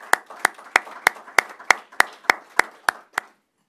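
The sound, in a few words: audience applause for figure skating medalist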